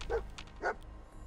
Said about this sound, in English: What, you're barking?